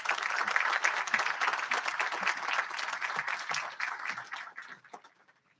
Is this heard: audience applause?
yes